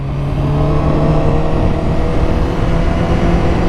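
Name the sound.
motorcycle engine misfiring at low revs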